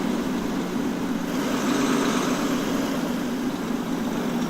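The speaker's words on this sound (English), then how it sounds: "I have the biggest, fattest engine in this truck" A big truck engine idles in the trucking game SuperTrucker, a steady low rumbling drone that holds even and loud from start to finish with no talk over it.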